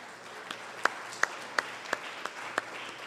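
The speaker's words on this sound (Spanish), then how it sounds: "Vamos a darle un aplauso a Bolívar, creo que se lo merece." Sparse, scattered hand claps from a small lecture audience on Bolivarianism versus the Monroe Doctrine: about seven separate sharp claps spaced roughly a third of a second apart over a faint background hiss.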